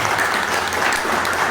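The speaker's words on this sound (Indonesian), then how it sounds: "Tepuk tangan untuk rekan-rekan komunitas" Brief burst of steady applause for community members at a Benelli motorcycle flagship store event in Surabaya, dense and even throughout the short moment.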